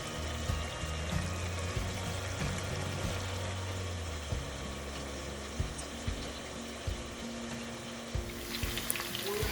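Kielbasa sausages simmer in a pan with a pineapple brown sugar glaze, giving a steady close sizzle and bubbling crackle throughout with occasional small pops, and no talking.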